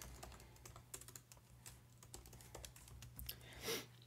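Someone types on a computer keyboard, entering text into a web form; irregular, quiet key clicks come in short bursts with brief pauses, close and alone.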